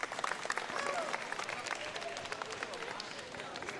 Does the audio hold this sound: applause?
yes